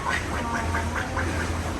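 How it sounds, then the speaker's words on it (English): Ducks quack repeatedly along the San Antonio River Walk, a steady run of calls at moderate distance over background noise. "And we're checking out the ducks."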